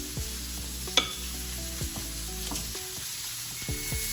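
Steak sizzling steadily in a hot pan during a surf-and-turf lunch, a continuous close hiss with small crackles and one sharp tick, no talking.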